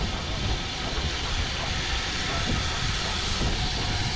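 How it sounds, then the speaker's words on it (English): Heritage steam locomotives, including BR Standard 73156, hauling coaches into a station on the Bluebell Railway during an autumn steam gala, heard as a continuous broad hiss and rumble with faint wheel clatter. "73156 draws in with the Sheffield Park to its Grinstead service"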